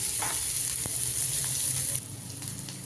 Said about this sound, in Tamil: இதில் கொஞ்சம் மஞ்சள் தூள் போடுறேன் பாருங்க நல்லா வதங்கணும்